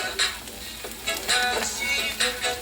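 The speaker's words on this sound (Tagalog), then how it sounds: "haluin natin yan" Bitter gourd (ampalaya) being stirred in a frying pan, sizzling steadily with several scraping strokes of the utensil against the pan, close and alone without talk.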